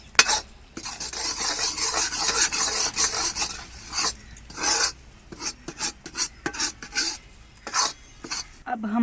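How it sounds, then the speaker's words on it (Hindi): Spoon steadily stirring and scraping wheat flour as it roasts in a pan for halwa, a continuous rasping, rubbing rhythm with brief gaps, close and fairly quiet. "आटे को हम भून लेंगे। चम्मच को हम लगातार चलाते रहेंगे।"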